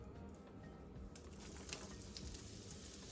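Onion frying in coconut oil and butter in a pan, a quiet steady sizzle and crackle with faint pops and scraping, heard alone without talk.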